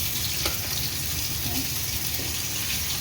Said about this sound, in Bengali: এখানে অর্ধেক মাছ ভাজা চলছে